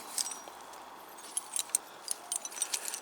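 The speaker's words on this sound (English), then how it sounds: "Got all these babies," Keys pulled up while magnet fishing clink and jingle lightly in scattered, quiet metallic taps and short rattles, close by and without any talking.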